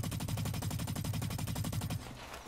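Rapid automatic gunfire from the Blacklight Retribution video game, a loud continuous burst of fast, evenly spaced shots lasting about two seconds before cutting off into quieter background sound.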